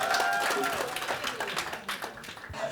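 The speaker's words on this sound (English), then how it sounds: "Clap for Jalango, everybody." An audience at a Kisumu quiz night event claps and applauds steadily, a dense patter of hands filling the room throughout.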